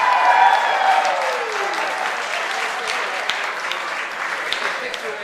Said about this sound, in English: applause for Brittany Murray